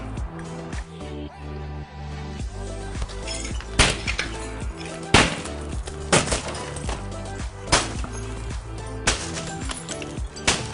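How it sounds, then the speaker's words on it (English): A hand tool strikes repeatedly through window glass coated with solar tint film, sharp loud cracking impacts at uneven intervals over a steady lower background rumble. "I'm actually only hitting it with one hand, and the tool is going right through the glass"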